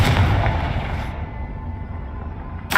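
A Confringo fire spell blast in the video game Hogwarts Legacy bursts loud at the start, then a rumbling roar decays slowly, with a second sharp burst right at the end.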